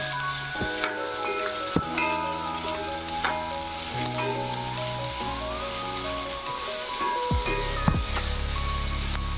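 Aloo paratha filling sautéing in a pan, a soft continuous sizzle with occasional scraping stirs and light clinks from a utensil, close and steady, under faint background music tones, no talk.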